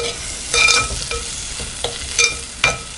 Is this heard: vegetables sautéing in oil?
yes